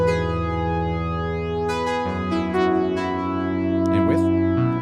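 Classic analog-style synth lead built in FL Studio 20, played without EQ so the low end sounds thick and muddy; sustained harmonic-rich notes change pitch in steps and play loud and steady on their own, with no voices.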